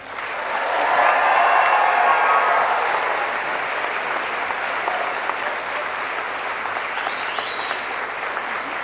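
At a graduation ceremony for the Institute of Criminal Justice Studies, a large audience applauds loudly. The clapping swells in the first seconds, then settles into sustained, even applause with no voices over it.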